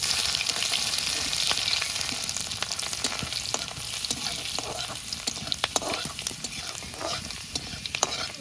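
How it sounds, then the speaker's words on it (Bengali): Cumin and garlic tempering crackles in hot oil with a dense, close sizzle, while frequent sharp scraping clicks of stirring run through throughout, no voices present. "তেলের উপরে ফোড়নে দিয়ে দেবো ফোড়নে দেবো জিরে রসুন"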